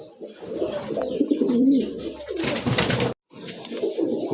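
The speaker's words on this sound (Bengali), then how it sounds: "সিঙ্গেল একটা নট কবুতর" Pigeons coo nearby in low, throaty, rolling calls, loud and close, with a brief break near the end before the cooing resumes.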